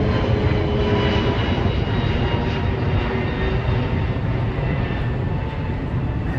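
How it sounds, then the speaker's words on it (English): Low-flying airplane over Miami, Florida, a loud, steady engine roar filling the whole stretch with broad rushing noise and a faint whine, close and unbroken, without talk. "Man, that plane was flying crazy low."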